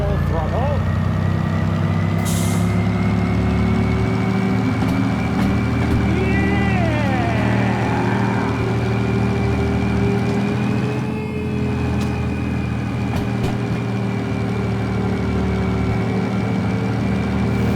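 A locomotive engine in Derail Valley runs at full throttle with a steady, loud, deep drone and a sustained tonal whine, joined briefly by a rising mechanical warble. A voice talks over it.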